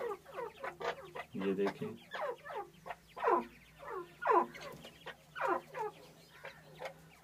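A big pair of partridges with their active chicks call in a series of rhythmic, clucking bursts, fairly faint and close, with a brief spoken remark partway through.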